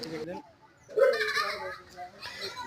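A small goat bleats loudly, held by a man just before a Qurbani sacrifice at a madrasa, with people and children talking nearby.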